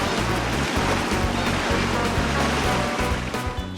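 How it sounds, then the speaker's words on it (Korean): Gentle sea waves on the West Sea coast of Korea, a continuous close rushing wash of water with rolling low surges, steady and fairly loud throughout, no voices. "갈매기 소리에 잔잔한 파도 소리까지 푸르른 서해가"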